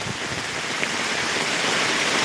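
Steady rain falls in a Punjabi village, an even, dense hiss of drops with no break or voices.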